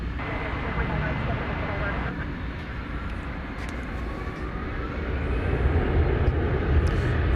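A UPS MD-11 cargo plane at DFW Airport gives a steady, broad jet engine roar at a distance, swelling slightly toward the end, while a voice talks over it.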